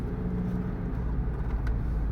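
A Honda Civic with a left rear magnetic encoder malfunction rolls along with a steady, loud, low road and engine rumble, heard from the cabin without talking.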